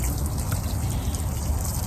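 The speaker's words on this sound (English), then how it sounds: "If you are using just your trusty hose pipe" Water running from a garden hose pipe onto plant roots, a close, steady splashing trickle with a low watery patter, continuous for the whole moment and no voices.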